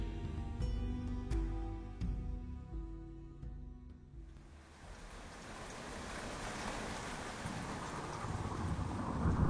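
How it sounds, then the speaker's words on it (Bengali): Rain and thunder play as an effect in a Bengali horror audio story, opening with low rumbling thunder and a drifting tone before giving way to steady, hissing rainfall that fills the rest of the stretch. "বৃষ্টি মুখর এক রাত্রি।"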